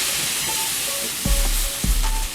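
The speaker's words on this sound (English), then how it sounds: "We're gonna grab a spatula and kind of just saute the butter and onions." Chopped onions and butter sizzle steadily in a hot pan, a close, continuous frying hiss broken by a couple of low thumps as a spatula stirs them.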